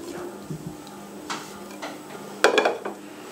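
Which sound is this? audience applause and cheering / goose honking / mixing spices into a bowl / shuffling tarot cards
mixing spices into a bowl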